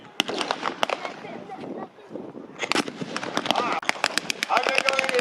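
Blank rounds crack in a WWII reenactment firefight against the Afrika Korps at a Tiger Tank 131 display, with sharp, irregular shots, some in quick bursts, over shouting voices and the bustle of the field.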